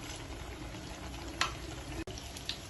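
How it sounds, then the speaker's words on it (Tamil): Potato hash brown frying in a pan on a stove over low heat, a steady soft sizzle throughout with a few brief crackles and a short clink near the end. "ரெண்டு சைடும் மாறி மாறி போட்டு நல்லா வேக வச்சாச்சு."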